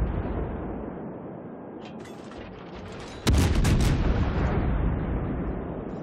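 Heavy naval gunfire from the cruiser Des Moines in the World of Warships game: a sudden loud boom about halfway through, followed by a sustained rumbling roar with crackling, after a quieter stretch of low rumble.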